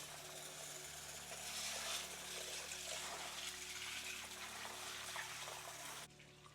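Chana dal lentils being washed in a pan with water, heard as a steady close sloshing and trickling of water with faint rattling of grains, ending abruptly.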